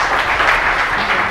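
A studio audience at a cooking competition bursts into brief, loud, steady applause with no talking.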